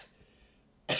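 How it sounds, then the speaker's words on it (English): A single loud cough bursts out at the very end, close to the microphone, after near silence. "Have a random cough."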